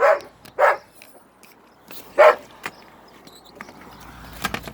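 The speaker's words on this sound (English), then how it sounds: "she's still barking" A female dog barks in three sharp, loud bursts close by, then makes softer yips and whimpers among indoor rustling.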